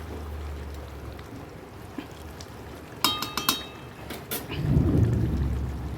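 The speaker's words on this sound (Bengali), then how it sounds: "মেঘ ডাকছে মেঘ ডাকছে গো মেঘ ডাকছে" A low rumble of thunder builds toward the end over soft rain, after a quick burst of sharp metallic clinks.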